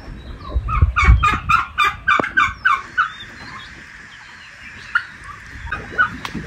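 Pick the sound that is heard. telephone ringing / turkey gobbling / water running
turkey gobbling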